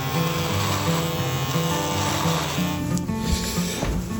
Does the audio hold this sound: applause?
no